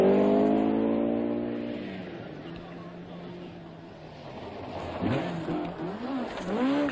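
A Triumph TR7 rally car on a 1978 RAC Rally stage pulls away with a loud engine note that fades, then more revving engine passes return later, with speech faint underneath.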